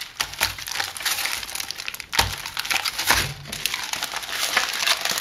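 A slab of crisp coconut chocolate is worked at and snapped apart up close, with crinkling, scraping friction throughout and two sharp cracks as pieces give way.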